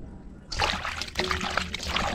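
Water splashes and trickles in a sink while chicken feet are rinsed for soup, a broad, continuous wash of running water and sloshing that starts abruptly and carries on close by, with no talk.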